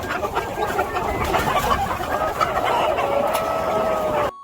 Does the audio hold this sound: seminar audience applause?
no